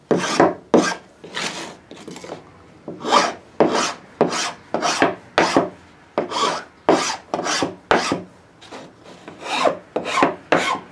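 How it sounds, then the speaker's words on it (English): A file rasps across the rough edge of melamine-covered plywood in steady, loud strokes, about fifteen in eleven seconds, each a harsh scraping burst with brief pauses between, close up and with no talk. "leaves sort of a rough surface on there. So you got to sort of file it down."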